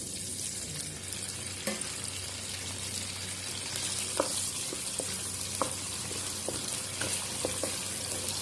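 Pork meatballs fry in a pan with a steady, soft sizzle, punctuated by a few faint clicks and light taps of a utensil; there is no talking.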